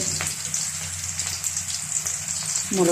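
Onions sauté in a pan for village-style buttermilk rasam, giving a constant bright crackling hiss, close and even throughout, with a brief low knock near the end.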